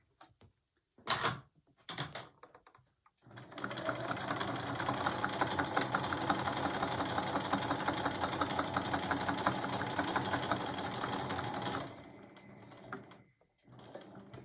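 Sewing machine running steadily while stitching quilt binding, a continuous mechanical whir lasting several seconds after a few short clicks, then stopping abruptly with quieter handling afterward.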